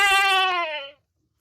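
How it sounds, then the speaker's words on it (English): A single goat bleat, one clear wavering cry held for just under a second and then cut off, close and loud with no other sound around it. "G for goat."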